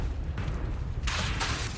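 The Confringo explosive spell in Hogwarts Legacy lands as a sudden broad blast, with a second surge right after. It erupts over a dense, rumbling layer of battle ambience.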